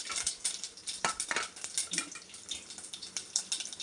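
Sharp irregular pops and crackles of mustard seeds bursting in hot oil, close up, with a soft sizzle underneath and no voices.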